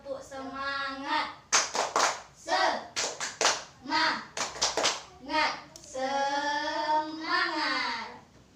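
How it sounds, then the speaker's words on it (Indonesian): A fourth-grade class claps in rhythm between bursts of children's voices chanting "tepuk semangat" together, sharp broadband hits forming a lively repeated pattern up close. "Mari kita tepuk semangat dulu."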